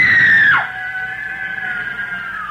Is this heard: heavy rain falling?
no